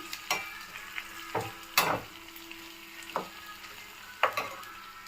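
Turmeric and green and dried chillies fry in a pan while a spoon scrapes and stirs, giving soft sizzling under a series of sharp, irregular scraping clatters, with no talking.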